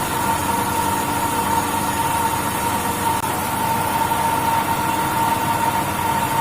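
A Pelton wheel turbine in a lab test rig runs steadily at constant speed and constant head, giving a continuous, even mechanical hum with a steady whine and water rush, loud and unbroken throughout with no talk.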